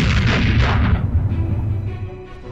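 A deep, booming burst like simulated artillery fire, from flash canisters used by the WWII Ghost Army, a loud low rumble that decays over about two seconds, with no voices.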